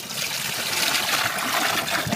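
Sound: pouring tamarind water into a pot

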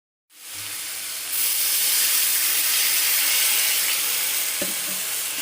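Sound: stirring potatoes frying with onion, green chilli and garlic

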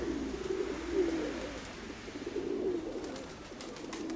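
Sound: pigeon cooing in a loft

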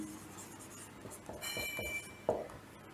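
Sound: writing on a surface

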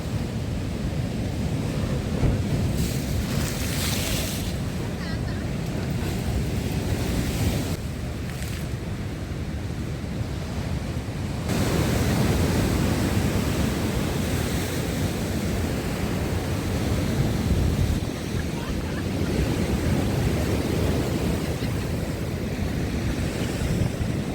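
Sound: stormy sea waves crashing in Odesa

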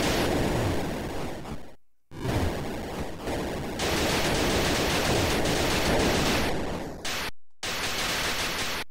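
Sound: explosions in an Atari Lynx video game

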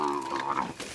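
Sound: cattle being herded

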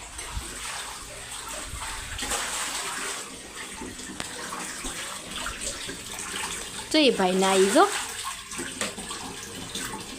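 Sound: water running from a tap during a bath

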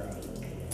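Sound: video game effect of water breaking, splashing liquid

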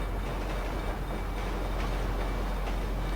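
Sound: train passing

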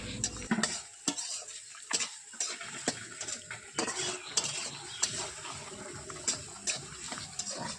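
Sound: fish frying in a pan

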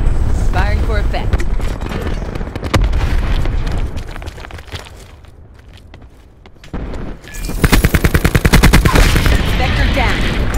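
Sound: machine gun fire in a video game

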